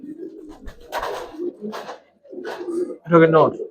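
Two male silver pigeons coo in low bursts while a person talks over them nearby, ending with a louder, close coo.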